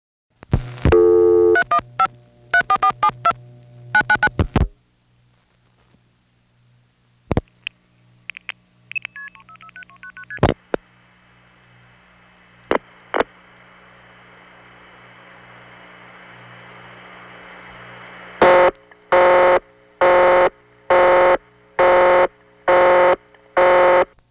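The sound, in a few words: long-distance telephone call tones, New York 315 area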